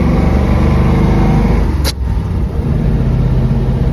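A 1935 Ford Model 48 Deluxe rumble seat coupe drives and accelerates through the gears, its engine droning steadily and loudly up close with a brief sharp click midway.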